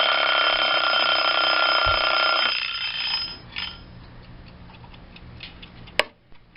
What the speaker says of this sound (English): there went the egg timer, perfect timing, which means it's done